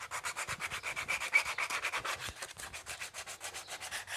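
Steady back-and-forth sanding of dead Spanish juniper (sabina) root wood after carving with gouges and chisels, a dense, continuous rasping scrape with regular strokes, close and fairly loud, no voices.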